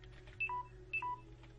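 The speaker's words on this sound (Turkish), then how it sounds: "Pardon telefon sesiydi." A telephone sounds two short electronic double tones, each a high beep followed by a lower one, faint over a steady low hum.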